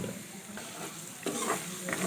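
Garam masala and turmeric fry in hot oil with a constant sizzle, while a spoon stirs and scrapes through the pan in short bursts, close and clear.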